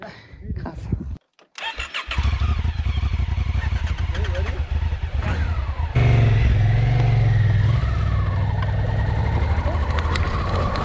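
Motorcycle engine on a ride through the Moroccan desert, starting with sputters and revs, then settling into a loud, rough, steady drone as the bike moves off, with someone talking over parts of it.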